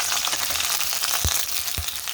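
Steady, crackling sizzle of coconut pieces frying in hot oil, with a couple of soft low knocks from stirring partway through.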